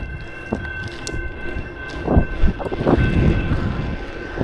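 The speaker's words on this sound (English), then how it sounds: "I guess the train is still working in one direction." A train passes with a low rumbling roll under wind buffeting, a steady tonal whine running through it and a few louder thuds, heard outdoors without speech.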